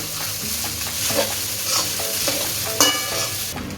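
Onion and spices for a quick pasta dish are stirred together in a hot pan. The sizzle is steady and close, with repeated scraping strokes and occasional louder clinks. No voices.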